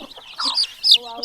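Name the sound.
chick being held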